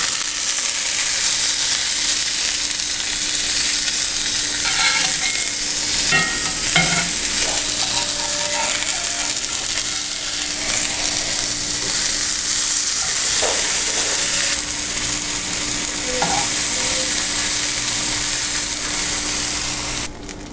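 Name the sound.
seasoned onions frying and caramelizing in a pan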